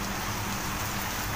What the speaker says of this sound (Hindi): आपको दिखा दिया मैंने कि बाहर का नज़ारे क्या है और कितनी बारिश हो रही है